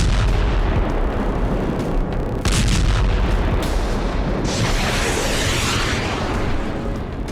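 Loud, continuous blasts from a Hezbollah guided missile strike on an Israeli army post in southern Lebanon, with several sharp heavy bursts and a broad roaring rumble that swells near the end, and no talk.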